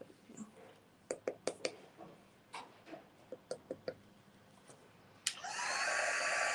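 A heat embossing tool melting embossing powder on a scrapbooking project roars on loud and steady near the end, after a run of scattered light taps and handling noises.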